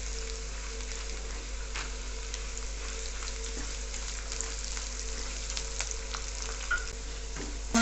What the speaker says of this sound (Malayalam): വെളുത്തുള്ളിയും ഇഞ്ചിയും മൂത്ത് വരുമ്പോഴത്തേക്കും നമ്മൾക്ക് അണ്ടിപ്പരിപ്പ് ഇട്ട് കൊടുക്കാം